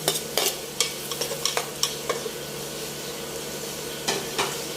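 Butter shrimp stir-fried with plenty of red chili and garlic in a pan: a continuous close sizzle broken by repeated scraping, stirring clatters.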